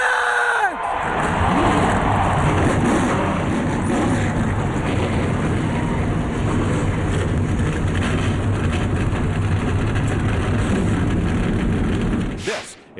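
NASCAR stock car engines start and rev together at a 2009 race, a dense, loud, sustained roar that holds for about twelve seconds before cutting off, with a crowd cheering under it.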